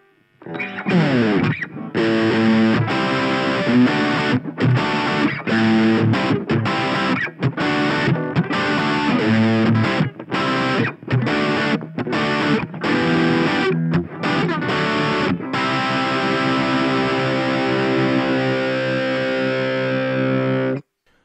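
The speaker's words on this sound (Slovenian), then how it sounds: "Naslednji kanal je Distortion kanal." Heavily distorted electric guitar through the distortion channel of a Nux Lite Mini amp chugs through a rhythmic riff of palm-muted chords, loud and close, then lets a final chord ring out.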